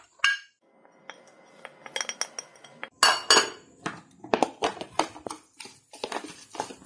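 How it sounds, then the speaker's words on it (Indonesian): Stuffing ingredients are mixed with tempoyak and turmeric in a bowl for stuffed mackerel scad, with irregular clinks, taps and scrapes of a utensil against the bowl, close and fairly quiet. "kita gaul bahan ni dengan terpoyok tadi"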